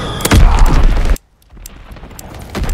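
A bomb goes off in the World War II shooter Call of Duty WW2 during a ranked Demolition match: a loud, heavy boom with rumbling low end that lasts about a second, then cuts to quiet before noise builds again.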